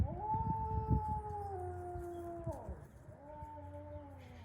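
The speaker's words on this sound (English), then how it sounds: "We got howling happening here" Ambassador wolves howl in long, tonal, gliding notes, one sustained howl sliding downward, then a short break and another rising howl, with layered voices overlapping nearby.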